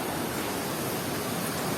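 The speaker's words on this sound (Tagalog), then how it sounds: "Ang lakas ng agos ng tubig." Strong current of river water rushing steadily at a hidden paradise spot in Baco, Oriental Mindoro, a dense, continuous roar filling the short stretch with no voices.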